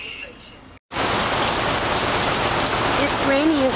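Rain falls steadily during a cruise to the Bahamas, making a dense, even hiss that starts after a brief cut near the beginning and carries on loudly to the end.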